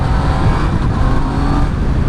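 2020 Yamaha MT-09 motorcycle accelerating hard from first gear into a wheelie: a loud, close, sustained engine roar throughout the short burst, with no talking.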